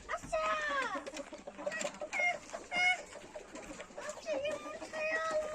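A rooster crows and clucks nearby in a series of harsh, rising calls, with some background bird noise and brief human talk.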